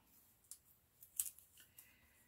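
Scissors cut paper for a handmade card, giving a few quiet, close snips spread over about two seconds in an otherwise hushed room.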